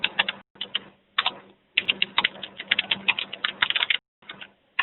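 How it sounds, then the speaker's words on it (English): Steady bursts of typing on a computer keyboard during an online chat session: rapid clattering keystrokes in several runs separated by short pauses, close and clear, with no talking. "If typing that into the chat box, we can hear you."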